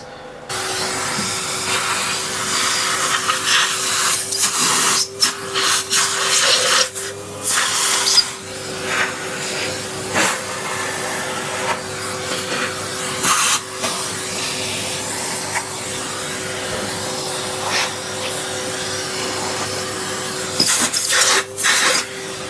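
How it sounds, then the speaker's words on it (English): A vacuum cleaner runs steadily in a workshop, hoovering up metal debris after drilling valve buckle holes on a 7 1/4 inch gauge model steam locomotive, with a sustained hiss and brief surges as the nozzle moves, no talk. "get the hoover and hoover that up"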